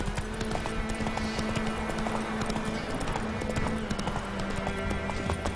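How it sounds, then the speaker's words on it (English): Hooves of a horse clip-clopping steadily in The Witcher 3 while it trots through mountain terrain, a close, regular rhythm over game ambience, with a brief snort or whinny. "My horse is getting stuck in the mountains."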